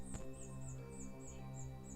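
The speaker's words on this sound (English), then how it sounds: "You hear the chirping?" Birds chirping from a neighbour's place, a faint, evenly repeating series of high short chirps over a low steady hum.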